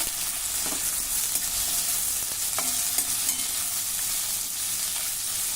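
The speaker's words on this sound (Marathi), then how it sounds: "आता हा कांदा आपल्याला हलका तांबूस रंगाचा होईपर्यंत परतून घ्यायचा आहे" Crushed garlic and two large onions sautéing in a pan, a steady close sizzle and fry with occasional stirring scrapes throughout.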